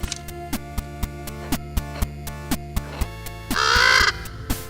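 A raven caws in a sharp, repeated call that rises loud near the end, set over a rhythmic musical backing with regular percussive hits throughout.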